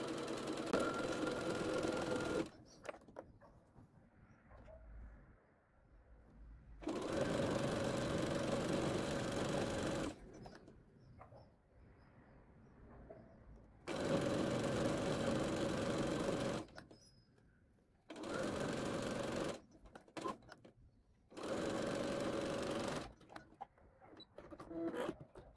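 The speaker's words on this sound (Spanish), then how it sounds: "lo que hago ahora es simplemente pasar la costura" A sewing machine runs steadily as it stitches a seam along marked fabric, in several sustained bursts of a few seconds each, separated by quiet pauses.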